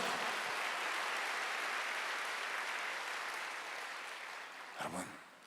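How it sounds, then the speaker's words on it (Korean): Korean church congregation at a Sunday worship service breaks into loud, steady group clapping that fills the room, slowly fading toward the end, with a brief voice cutting in near the finish. "그 길 끝에 하나님이 여러분과 일한 대로 갚아줄 걸 믿는 사람만 박수하세요."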